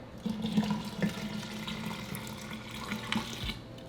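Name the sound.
pouring cold water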